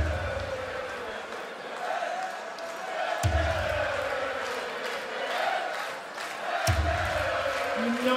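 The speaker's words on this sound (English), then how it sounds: "Crowd are getting boisterous." A boisterous crowd at the 2018 BDO World Championship darts final makes a steady, lively roar of mingled shouting voices that swells and dips throughout.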